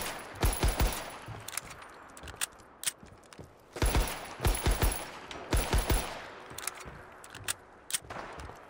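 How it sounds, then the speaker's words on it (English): An M1911 pistol fires in the Fallout 4 video game, with rapid bursts of sharp, loud shots in clusters separated by brief pauses and mechanical clicks. "Now let's take a look at the M1911 pistol."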